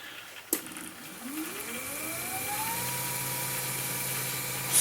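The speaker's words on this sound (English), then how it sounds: "that is a very powerful servo motor which hasn't got the control wires connected" A powerful servo motor with its control wires disconnected starts with a sharp click, then spins up in a rising whine that levels into a steady, fairly loud hum in a clock-making workshop.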